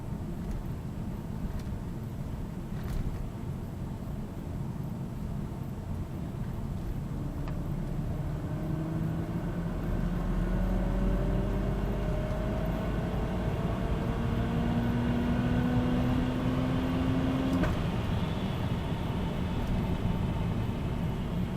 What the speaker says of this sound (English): So I didn't go to full RPM just because running out of road. But no, that was fourth gear.